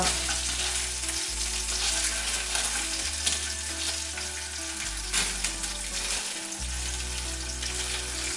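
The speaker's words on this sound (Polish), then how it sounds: "ośmiornica osmażona z jednej strony, więc ją odwrócimy na drugą stronę" Steady sizzling and crackling of octopus frying in a hot pan, loud and close, continuous throughout with no voices.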